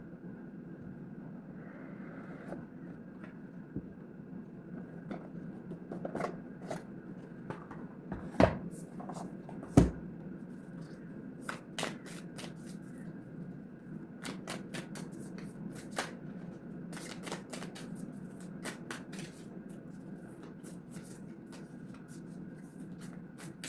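An Alice in Wonderland tarot deck is shuffled by hand, a soft riffling and snapping of cards in irregular bursts over a quiet room hum. Two sharper taps land near the middle.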